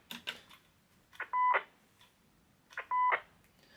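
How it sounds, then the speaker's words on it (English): Superstar 3900 FM/AM/SSB radio giving two short electronic beep tones about a second and a half apart, each a steady pitched chirp, close and clean against quiet background. "tone on this is a beep on and off. It sounds pleasant enough if you need to use one."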